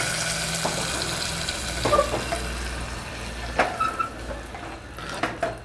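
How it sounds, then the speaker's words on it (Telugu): Hot ghee and garlic tempering hits radish leaf dal with a continuous sizzle, broken by a few sharp clinks of utensils near the pan. "ఇప్పుడు మనము ఈ కూరకి మనము దీన్ని తిరగమాతని యాడ్ చేసుకుందాము"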